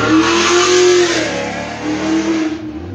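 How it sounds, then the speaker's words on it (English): A car speeds past on a street, its engine loud and close with a rising then falling revving tone that sweeps through over a few seconds, no talk. "That car you hear right there?"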